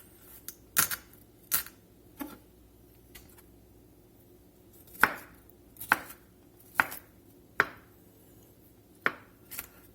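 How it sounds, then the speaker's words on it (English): Pearl onions are finely chopped with a knife on a cutting board, sharp separate thuds landing in an irregular rhythm, some in quick pairs, close and clear against a quiet background. "I like to go through and make sure they're pretty finely chopped"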